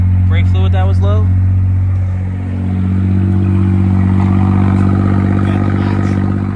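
A Suzuki Alto Works CR22S engine revving close up, a steady loud buzzy drone that dips briefly mid-clip and then climbs again; a voice is briefly heard near the start.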